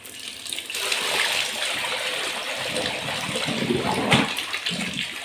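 Water rushes hard through a pipe under pressure to clear a blockage, in a steady, loud gush that holds without a break, with no voices.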